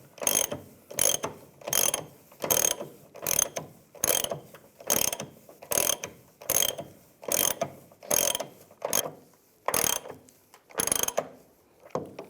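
Ratchet wrench tightening fuel pump module bolts on a 2007-2013 Chevrolet Silverado 1500, heard as about a dozen rhythmic bursts of ratcheting clicks, close and clear with short pauses between strokes.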